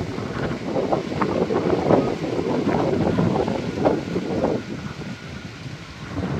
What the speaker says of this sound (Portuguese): Olha só o vento como tá.